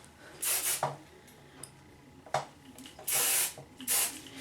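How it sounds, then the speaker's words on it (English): Several short hissing bursts of aerosol hairspray, sprayed close by onto hair in quick separate puffs with brief pauses between. "I take some hairspray, spray in the area, and just lightly press them in"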